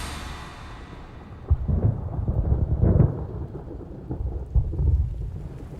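Monsoon rain falls steadily over jungle while low thunder rumbles and rolls in a few heavy swells. The storm sounds fairly near and has no voices over it.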